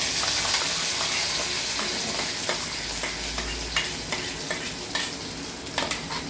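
Garlic chutney is tipped into a hot pan of sizzling tempering with curry leaves and stirred, giving a steady loud frying hiss broken by repeated sharp scrapes of the spoon against the pan, with no voices.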